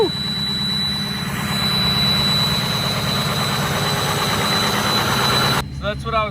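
A Ford 6.0 Power Stroke diesel truck engine, hood-stacked and rebuilt, idles steadily at about 1,000 RPM with a low continuous rumble and faint hiss, and a person starts talking near the end.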